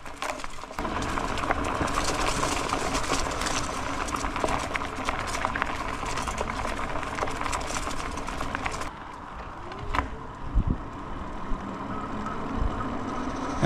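A MoonCool TK1 electric trike cruises along at speed, giving a steady close rumble of wheels and rushing air with rattly, clattering texture that eases off toward the end, where a few scattered knocks break through.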